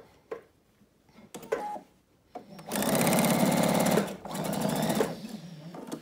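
A sewing machine stitches lined-up denim quilt squares for a raw-edge strip quilt block with a built-in walking foot engaged, running in two loud sustained bursts after a few quiet handling taps.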